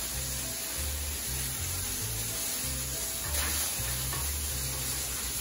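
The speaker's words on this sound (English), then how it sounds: "Mix it up, everything." Fish taco ingredients sizzle and fry steadily in a hot pan as they are stirred and mixed, a continuous close hiss with soft scraping and no talking.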